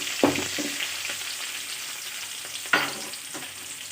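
Onions frying in a pan with mustard seeds for ponnani keerai poriyal, a continuous close sizzle with two distinct sharp stirring scrapes and pops breaking through.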